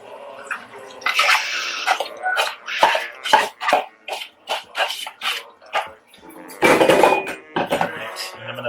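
Rinsed, drained rice goes into a pot with sofrito for arroz con pollo, making a series of short scraping and clattering bursts, with a louder rushing spill toward the end.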